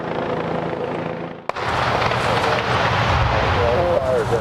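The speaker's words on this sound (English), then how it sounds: "what it sounded like just an hour or so ago when we heard that tree topple from where we were" A large tree in Big Tree Park topples during a fire, a sudden sharp crack followed by a loud, sustained roaring crash and rumble, with a voice talking over it.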